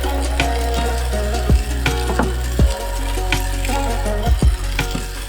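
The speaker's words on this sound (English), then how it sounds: "let's start by frying the halloumi in a little bit of oil." Steady loud sizzling of halloumi cheese frying in a little hot oil, with occasional scraping and stirring knocks from a utensil in the pan.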